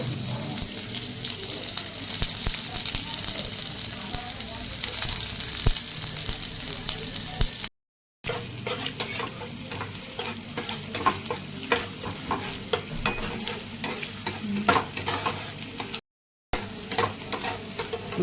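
Chopped raw onion frying in oil with cardamom and cloves, stirred in a pan: a continuous loud sizzle with frequent scraping strokes of the spatula, broken by two brief silences.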